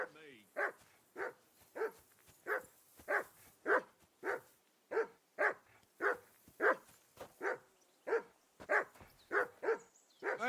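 A dog barks repeatedly and insistently, about fifteen evenly spaced loud barks at close range with a steady rhythm, with no voices over them.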